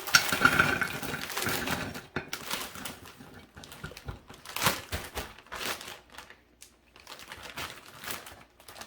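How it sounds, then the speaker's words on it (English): Frozen tater tots being laid into a casserole dish for a slow cooker beef dinner, with a string of light clattering and crinkling bursts, close and moderately loud, with short pauses between handfuls. "Let's go ahead and make a layer of tater tots on the bottom."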